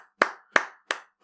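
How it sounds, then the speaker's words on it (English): Four crisp, evenly spaced handclaps ring out close and loud in an otherwise quiet room, the last one softer than the others. "We're clapping"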